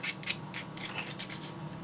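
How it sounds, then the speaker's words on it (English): Soft, close rhythmic rubbing of a sanding stick against wood on a scratch-built model warehouse, a steady series of short scratchy strokes with no voices. "this is just a sanding stick, so you can kind of work at it like that"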